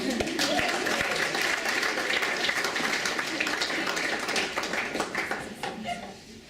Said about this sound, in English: So give yourself a applause